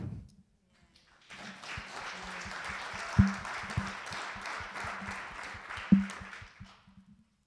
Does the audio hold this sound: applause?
yes